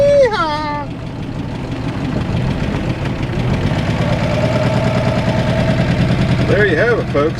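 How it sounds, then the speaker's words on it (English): A 1961 Ford Falcon engine, long abandoned, runs at a steady rough idle with a continuous loud rumble, while a person talks over it at the start and end. "She runs, she drives, she idles."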